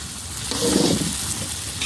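Marinated chicken pieces stirred continuously in cooked-down spice paste over a clay earthen stove outdoors, giving a steady close sizzle and frying hiss with scraping stirs throughout.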